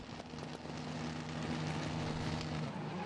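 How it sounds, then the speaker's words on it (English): Rallycross car at the FIA World Rallycross of Argentina start grid, engine revving hard with anti-lag on, a loud, steady, dense roar held close for the whole few seconds with no talk. "Anti-lag on, revs up."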